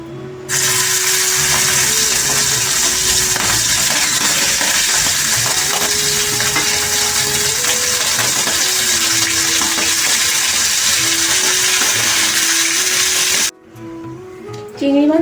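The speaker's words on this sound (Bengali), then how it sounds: "তেলটা গরম হয়ে গেছে আমাদের, এর মধ্যে চিংড়ি মাছগুলো দিয়ে দেব।" Prawns dropped into hot mustard oil hiss and sizzle loudly and steadily, a dense frying roar that runs close up for most of the stretch before cutting away near the end.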